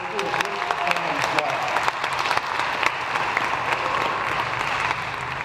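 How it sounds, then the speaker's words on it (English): A crowd applauds student athletes at the 2019 WESPY Awards ceremony, sustained dense clapping with a few sharp nearby claps standing out, steady in level, with faint voices beneath. "let's give these kids a round of applause, these student athletes"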